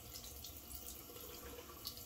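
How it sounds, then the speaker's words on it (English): Cold water running steadily from a tap into a sink during a wet shave, a faint, continuous splashing hiss with no pauses. "Water is running cold."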